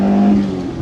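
A Lotus Elan twin-cam engine revs close by in a steady, loud drone with a strong low hum that eases slightly toward the end of the brief burst.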